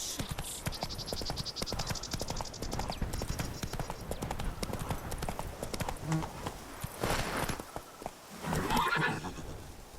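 Roach the horse gallops in The Witcher 3: Wild Hunt, with rapid rhythmic hoofbeats under a loud neigh and whinny, mixed with game ambience and faint talk.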